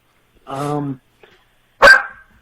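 A single dog gives one sharp, loud bark right after a brief stretch of someone talking, in a quiet indoor room during a podcast recording.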